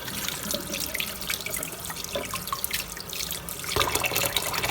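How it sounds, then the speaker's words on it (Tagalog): Hot water runs from a tap over beef shanks being washed for bulalo soup, a steady splashing, trickling stream close by with occasional clattering shifts in the flow. "Hinuhugasan ng mainit na tubig."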